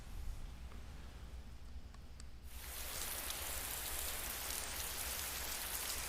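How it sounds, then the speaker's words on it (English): Rain falling at night in the video game Persona 4 Golden, a soft muffled patter that abruptly opens into a loud, bright, steady downpour partway through, continuous and without speech. "You can hear it raining outside."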